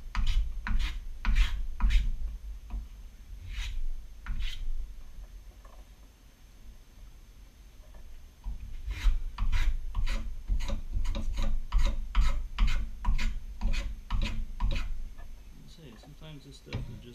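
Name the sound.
hand tool filing a wooden foundry pattern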